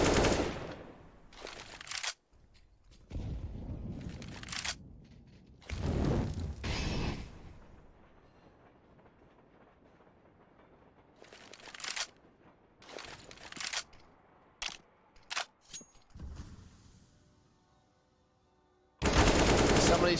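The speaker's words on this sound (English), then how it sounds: "Somebody sprays up, takes the first man down." Counter-Strike gunfire on the Train map during a competitive match: separate bursts of sprayed automatic fire and single shots, some loud and close, others fainter, with pauses of near silence between them.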